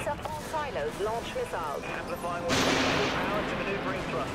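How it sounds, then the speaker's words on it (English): Tempest missiles firing in the space combat video game Dreadnought, a sudden loud launch blast that swells into a sustained roaring rush after several beeping weapon-lock tones, with someone talking over it. "Fire those Tempest missiles."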